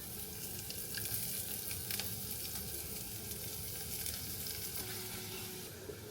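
Onions and curry leaves frying in a pan, a steady soft sizzle with light crackles and occasional stirring, heard alone at low level.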